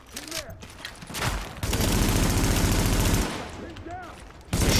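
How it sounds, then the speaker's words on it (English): Rapid bursts of shotgun and automatic gunfire in the video game The Division, forming a sustained loud barrage with shorter shots before and after, under a voice talking. "It's a shotgun, which is good."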